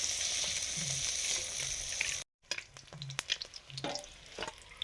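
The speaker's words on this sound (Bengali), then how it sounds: "রুই মাছ ভাজা হয়ে গেছে।" Rohu fish pieces fry in oil in a pan, giving a loud, close, continuous sizzle that breaks off briefly, then resumes as softer crackling with scattered pops and clinks.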